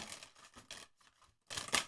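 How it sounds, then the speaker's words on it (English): Tarot and oracle cards are shuffled by hand in a few quick, crisp riffling bursts, close and quiet, with a short pause before a louder final riffle. "So the first shuffle went, but the second shuffle was not as smooth."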